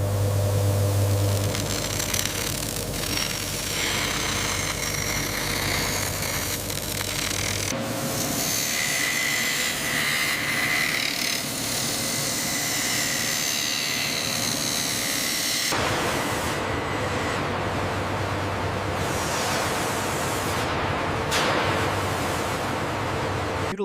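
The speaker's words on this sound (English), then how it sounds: "To achieve that, we rely on the Studer S33 behind me." A Studer S33 grinding machine finishes a steel tube to a mirror polish in a factory, giving a loud, continuous broadband hiss and rushing whine that shifts in character partway through, with no voices.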